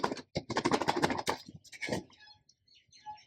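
A small container of mini books being shaken by hand, giving a burst of rapid rattling clatter for about a second and a half, then a few sparser knocks, close and fairly loud with no talking.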